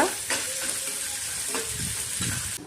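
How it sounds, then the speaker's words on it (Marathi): Chopped onion with salt frying in a pan for tomato chutney, a steady sizzle running throughout with several scraping stirs of a spoon against the pan. "आता मी कांदा टाकून घेते, मीठ टाकून घेते. याला चांगलं शेकवून हलवून घेऊयात आपण याला चांगलं."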